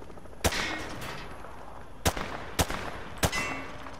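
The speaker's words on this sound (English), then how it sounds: "Grab that weapon off the table and fire at the targets behind you." Four sharp, isolated rifle shots crack out at uneven intervals as targets are fired at on a range in Call of Duty Modern Warfare 2 Remastered, each leaving a brief metallic ring over a quiet background.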